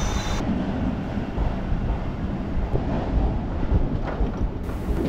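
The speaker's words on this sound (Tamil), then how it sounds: "உங்களுக்கு ஆப்போசிட்டில் ஒரு இஎம்யூ ட்ரெயின் கிராஸ் ஆகி போயிட்டு தான் இருக்குது" Chennai EMU electric suburban train rushing past on the opposite track near Egmore at night, a loud, continuous roaring rumble with wind buffeting, heard close from aboard another train.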